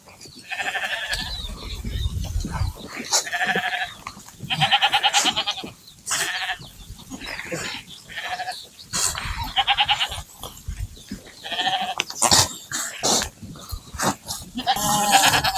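Sheep and lambs in a pen on a flock farm bleat repeatedly, several animals overlapping near and far, with short calls in irregular bursts over low rustling and shuffling.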